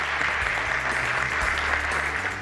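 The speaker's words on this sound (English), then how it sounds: "Let's give them a warm round of applause." An audience in a school auditorium at a high school dedication applauds, dense continuous clapping that stays loud and steady throughout with no speech over it.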